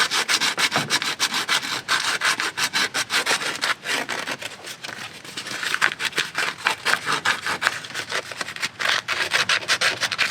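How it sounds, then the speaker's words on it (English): Sandpaper scrubs corrosion off the metal terminals of a car starter in steady, rapid back-and-forth strokes, a close, loud rasping that runs without a break. "So I'm just taking a sandpaper to them and removing the old corroded, nasty metal."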